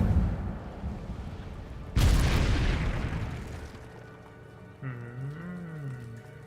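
A sudden whooshing burst of flame erupts from an Incendio fire spell in Hogwarts Legacy, loud and roaring before fading into a crackling tail, followed by a shorter swirling magical effect.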